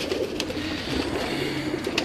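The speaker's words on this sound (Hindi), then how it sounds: "ये बाबर साहब का इमामदीन कबूतर है" An Imamdin pigeon coos softly in a low, continuous murmur, fairly close and without any talking over it.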